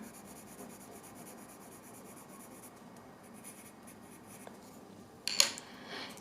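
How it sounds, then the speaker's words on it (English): A soft 6B graphite pencil scratching and rubbing across drawing paper, quiet continuous strokes close up, ending with a brief sharper scrape. "So I'm using 6B pencil."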